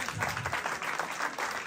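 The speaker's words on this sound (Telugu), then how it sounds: "సో ఫుడ్ ముందే చప్పట్లు కొడుతున్నారు" An audience at an NTR centenary celebration event in The Hague claps together in a dense, continuous burst, with a voice faintly underneath.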